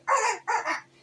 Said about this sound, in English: Oh, it's a little dog, huh? It's a little dog.